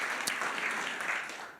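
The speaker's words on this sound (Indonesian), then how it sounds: "Beri tepuk tangan dulu lagi buat Tuhan Yesus." A church congregation at a GBI worship service in Batam claps together in a brief burst of applause that tapers off quickly.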